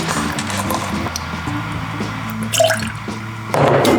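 Lime juice, half an ounce, poured into a Mexican Steel cocktail, with a steady dripping, trickling liquid sound up close and a brief louder splash near the end.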